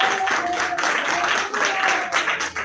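Congregation applauding at a church service, a steady dense patter of many hands clapping at moderate volume, with a faint sustained tone running through it and no speech.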